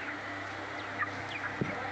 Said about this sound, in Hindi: ये मुर्गी बच्चे 20 दिन के हो गए,